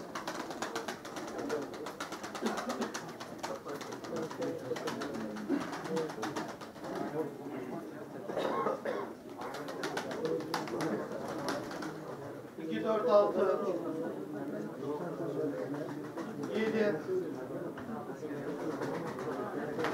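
Pigeons coo softly in the background throughout a pigeon auction, with people talking over them nearby.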